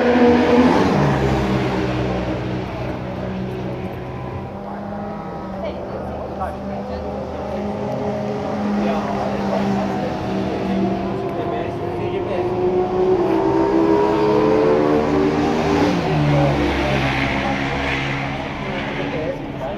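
A Ducati motorcycle at a racetrack track day in Curitiba revs and roars steadily for about twenty seconds, rising and falling as it passes, loud and close, with people talking over it.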